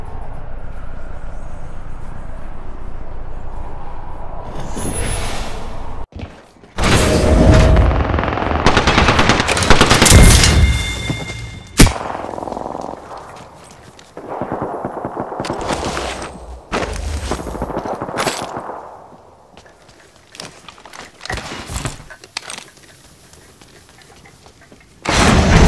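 Loud automatic gunfire bursts in the battle royale game Apex Legends, several rapid volleys broken by short pauses, with booms and game effects and no talking.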